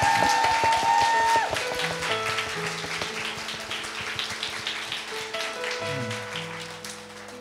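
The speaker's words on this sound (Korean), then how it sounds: "네, 우리 아버지께 다시 한번 박수" Church congregation applauding during a Wednesday worship service, steady dense clapping with a scattered crackle, moderately loud, while sustained organ or keyboard tones play underneath.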